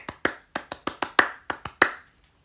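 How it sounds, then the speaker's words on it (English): Eleven sharp hand claps or knocks mark a ceremonial magick rite, delivered close and crisp in an uneven rhythm, with short pauses between small groups and a brief quiet tail. "And then I will clap or knock 11 times"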